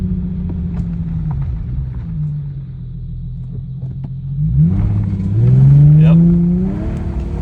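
A 2008 Infiniti G35X in sport mode accelerates and shifts up through its gears, its engine rumble climbing in pitch and swelling louder toward the end, with a brief spoken word over it.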